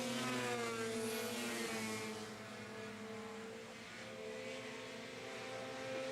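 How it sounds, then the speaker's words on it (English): Race cars circling the Grand Bend Speedway track, engines roaring loud and continuous with layered revving that swells and eases as the pack passes. "And these drivers are just racing it around the track here."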